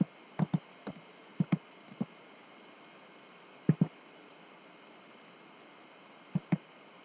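Fingers type an email ID on a computer keyboard: sparse, close clicks in small clusters of two or three keystrokes, separated by quiet pauses.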